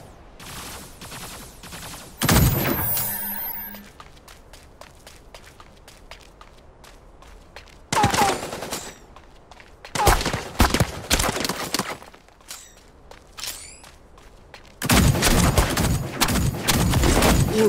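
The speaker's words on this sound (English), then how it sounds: "Shots heard." Gunfire in the mecha battle game Super Mecha Champions, sharp bursts of rapid shots in several separate volleys between stretches of quieter footsteps and clicks, some volleys loud and close.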